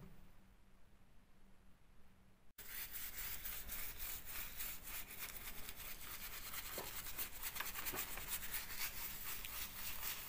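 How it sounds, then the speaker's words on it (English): A paintbrush scrubs the first coat of paint into a textured wall during water-damage repair near a leaking window, a steady close rasping swish that fills the clip after a quiet opening couple of seconds. "I'm applying by brush and I'm going to scrub it in."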